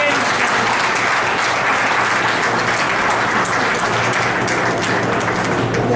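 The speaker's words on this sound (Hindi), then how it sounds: "तालियां होना चाहिए।" Steady, dense audience applause at a Lions Club district governor's official visit and student honours event in Nagda, a continuous roar of many hands clapping for six seconds with no break.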